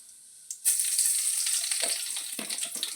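Chana dal and cumin seeds hit hot oil for a chana dal and tomato kootu, setting off a sudden, loud, steady sizzle that crackles on without any talking.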